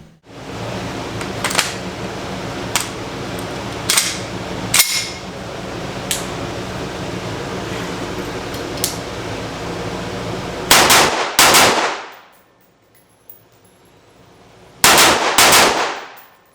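Shots from an SKtactical Ensio Firearms KAR-21 rifle, loud and close, crack out at irregular intervals, including some quick doubles. Heavy outdoor background noise runs underneath, then drops to near silence between the final blasts.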